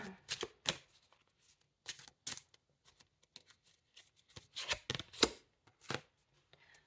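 A deck of playing cards is handled and shuffled in short, quiet riffling bursts separated by pauses, close by and with no talk.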